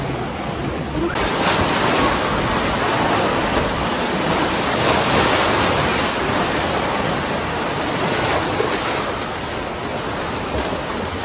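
Strong waves on the open sea near a beach resort roll and crash in a continuous, loud broadband roar of surf, steady throughout with no voices.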